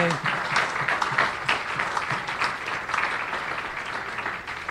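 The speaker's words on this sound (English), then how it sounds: "Just a round" An audience breaks into a round of applause, dense clapping that holds steady and then thins slightly toward the end.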